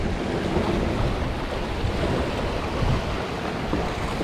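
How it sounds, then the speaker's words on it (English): Ocean waves rush and crash around a sailboat racing in the Transpac from Los Angeles to Honolulu, off Oahu near the Molokai Channel, with steady loud surf and wind noise filling the whole stretch and no voices. "Look at these waves."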